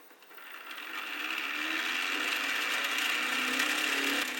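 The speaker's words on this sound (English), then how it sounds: "Alright, let's give her a quick try." A small Lego-built brushless motor running on a 9 volt battery spins up from quiet to a steady, high-pitched whine, rising over the first second and holding at a fairly faint, even level without any speech.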